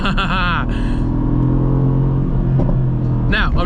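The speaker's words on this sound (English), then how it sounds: "out of all the vehicles, this has the best exhaust." A Mercedes-AMG GT C revs hard on a drive, its engine and exhaust giving a loud, close, rising roar. It settles into a steady rumbling drone, then climbs again near the end.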